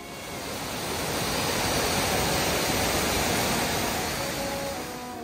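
A steady, full rush of falling water from one of the Kawazu Seven Falls in Izu, Japan, roars continuously, swelling slightly in the middle, with no voices.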